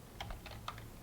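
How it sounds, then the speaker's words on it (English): Keys tapped on a computer keyboard while code expressions are entered: a handful of soft, quick clicks in an uneven rhythm, close and quiet, with no talking. "So I am actually typing each expression."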